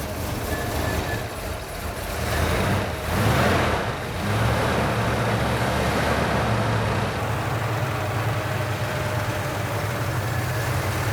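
A classic squarebody Chevy truck with a new Gandrud Chevy long-block engine idles while warming up, a steady low rumble heard close with a rise in the middle.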